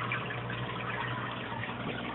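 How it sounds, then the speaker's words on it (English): Water trickles over bioballs down into an aquarium sump compartment below an Eshopps PF 1000 overflow box, a faint, steady splashing wash with no voices. "I think it's coming from the drip over the bioballs down into the compartment down there."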